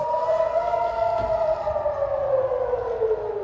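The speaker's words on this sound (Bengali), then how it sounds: "সাইরেনের শব্দে নিরাপদে ছুটে যায় বাসিন্দারা" Air raid sirens wail over Tel Aviv during a missile attack, a loud, sustained rising and falling tone with steady harmonics that slowly drift downward, filling the whole stretch with no voices.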